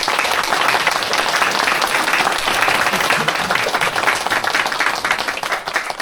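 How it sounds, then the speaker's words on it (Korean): A large crowd applauds steadily at a kindergarten graduation ceremony, a dense wash of clapping hands sustained throughout at a loud, even level. "여러분 우리 축하의 박수 한번 보내드릴까요?"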